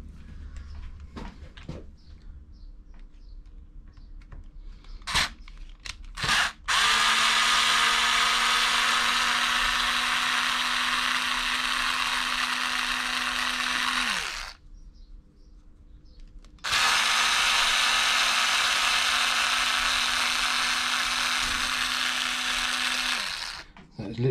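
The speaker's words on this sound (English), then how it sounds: "It's literally a case 2mm hex, take out the top and bottom screws and off they come." A motorised hex driver whirs in two sustained bursts of several seconds each while it backs out the shock mounting screws on an Arrma Granite RC car, with a brief pause between runs and faint clicks before.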